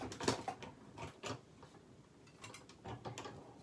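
An electronic craft cutting machine cuts out a design, giving off a series of short mechanical whirs and clicking gear-like pulses that come and go at moderate, close-up volume.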